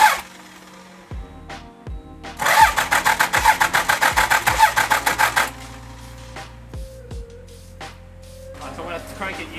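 A Toyota HJ75 Troopy engine with its rocker cover off cranks over in a rapid, even pulsing burst of about three seconds, close and loud, with clanks and voices around it.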